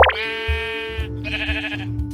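Minecraft sheep bleating in-game, a couple of close, loud wavering bleats in quick succession with background game sounds, no talk.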